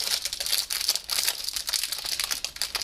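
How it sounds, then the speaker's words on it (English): Cellophane gift bag crinkling and rustling continuously up close as ribbon is tied around it, a bright crackly texture with no talking. "we're just going to tie it around the cello bag"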